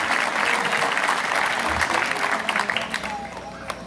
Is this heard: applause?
yes